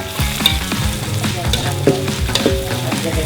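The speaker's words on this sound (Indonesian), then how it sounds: "Tumis kunyit dan bumbu lain yang sudah dihaluskan sampai harum." Ground turmeric and other pounded spices sauté in a pan. The sizzle is loud and steady, with frequent clanks and scrapes of stirring and no voices.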